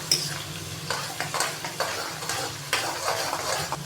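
Ginger and garlic paste frying in a pan for dhaba-style daal mash gives a steady close sizzle, broken by repeated scraping stirs of a utensil against the metal.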